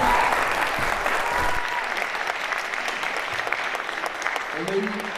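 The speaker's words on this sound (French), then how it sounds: "on peut encore l'applaudir" An audience at the Eloquentia Bordeaux public-speaking contest final gives a contestant loud, continuous applause, a dense, even wash of clapping that carries on, with a brief voice near the end.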